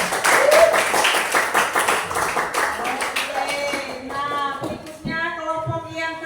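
Classmates clap together in a classroom after a group's discussion presentation, brisk hand claps for about four seconds that then fade as children's voices and speech take over.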